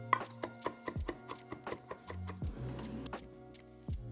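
Knife chopping garlic cloves on a cutting board for shrimp fra diavolo, a steady run of close, crisp taps at a brisk even rhythm, then a few heavier scraping strokes, with no talking.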